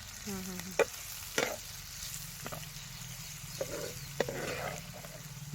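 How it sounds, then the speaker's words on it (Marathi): Masala for a dried Bombay duck curry sizzles softly in a pan, with a low continuous frying hiss and a few distinct clinks and scrapes of stirring, heard close up and fairly quiet. "आता याच्यामध्ये चांगलं परतू परतू घ्यायचं भाजीला"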